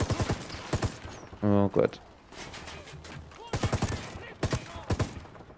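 Short bursts of gunfire in Ghost Recon Wildlands, a rapid rattling volley in the middle, with excited talk before and after.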